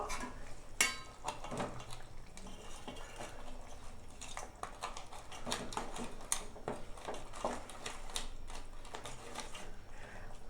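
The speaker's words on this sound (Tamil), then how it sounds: "இப்போ நம்ம அரைச்சி வச்ச தேங்காய் விழுதை இதில் சேர்த்துக்கலாம். இதை நல்லா கலந்து விட்டு ஒரு 2 நிமிஷம் கொதி வரட்டும்" Coconut paste being stirred into crab curry in a pan, with soft scraping and clinking of a spoon against the metal, irregular and fairly quiet over a low background hiss.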